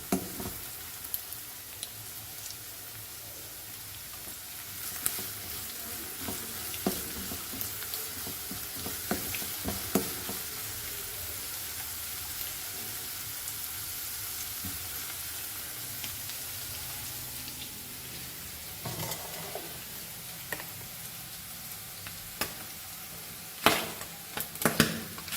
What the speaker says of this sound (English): Fry this onion nicely.